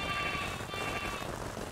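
Sheep bleat in the Craftopia video game, a faint, thin bleating call against soft ambient game background, with no talk over it.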